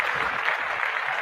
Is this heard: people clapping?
yes